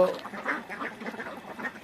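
Ducks on a small duck farm quack repeatedly in a busy, overlapping chorus close by, the calls steady throughout with no pauses.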